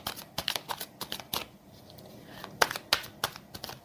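Tarot cards shuffled in a series of quick, crisp riffles and slaps, fairly close and moderately loud, with short pauses between bursts and no talking.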